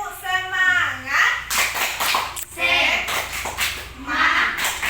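A primary school class performs the 'tepuk semangat' clapping routine, chanting together with bursts of sharp hand claps between the chanted phrases, close and lively, led by a teacher's voice.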